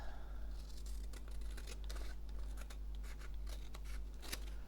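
Scissors snipping through paper while a small handmade journal is assembled, quiet repeated cuts with light paper rustle over a low steady hum.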